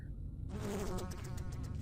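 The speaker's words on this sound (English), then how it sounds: "Countless flies immediately flew around from the overturned bucket and began swarming all around me" A swarm of flies erupts from an overturned bucket in the video game Corpse Party: Book of Shadows, a sudden dense buzzing that swells in after a brief quiet start and keeps droning loudly.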